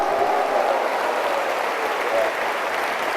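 A church congregation clapping steadily and loudly, a dense, sustained wash of applause with no break.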